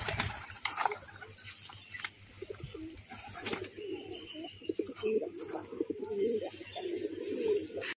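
Domestic pigeons coo softly and repeatedly in a loft that also holds a hen bird, with low murmuring calls rising toward the end, a few chirps, and faint rustling around them.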